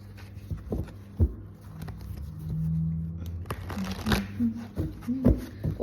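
Tarot cards shuffled and drawn by hand during a reading, with soft papery riffles, taps and flicks in short bursts, near and fairly quiet, with faint background noise.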